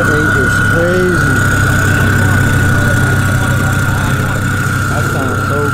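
A modified Audi R8 on air suspension, said to make 1500 horsepower, idles with a deep, steady rumble and a constant whine, while people talk nearby.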